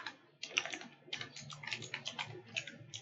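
Rapid clatter of a computer keyboard as code is typed, uneven bursts of crisp keystrokes close to the microphone with short pauses between runs.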